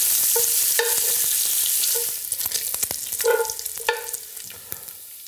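Bacon lardons crisping in a pan for coq au vin, giving a steady close sizzle and hiss throughout, with a few clinks and spatters toward the end.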